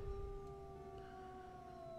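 A single wolf in WolfQuest 3 holds a long, steady howl that dips gradually in pitch, quiet and sustained over low background rumble, with no speech.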